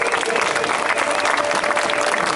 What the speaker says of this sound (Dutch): Uw applaus graag voor Sonny Colbrelli.